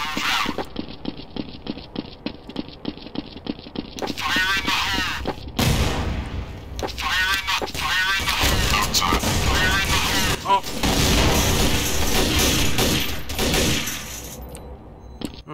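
Grenade blast and gunfire in Counter-Strike: Source on the cs_assault map, with loud repeated shots and a heavy burst, while players talk over the action.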